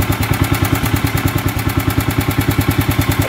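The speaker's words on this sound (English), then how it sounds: "there's a Kohler engine" A single-cylinder Kohler engine idles on a rare amphibious ATV, a loud, steady, close thumping with rapid even beats and a metallic clatter.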